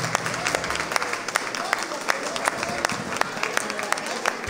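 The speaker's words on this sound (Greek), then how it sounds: "Ναι, ναι, το χειροκρότημα." An audience claps at the annual dance of a Pontic Greek association in Essen, giving a few seconds of steady, dense applause from a crowd in a hall while a speaker talks over it.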